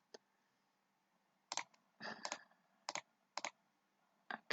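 Typing on a computer keyboard in short, irregular bursts of clicks, close and quiet, with gaps between the groups of keystrokes and no talking.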